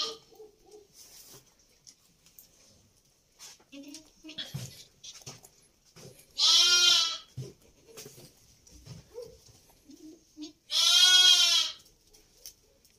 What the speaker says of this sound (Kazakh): Сауылатын ешкілер болатын, олар әлі уақтамаған ешкілер.